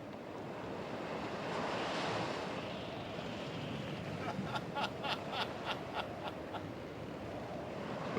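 Sea waves rolling under strong gusty wind, a continuous broad rush that swells early on, then a rapid series of short crackling bursts in the latter half.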